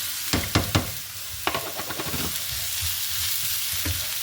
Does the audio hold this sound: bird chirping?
no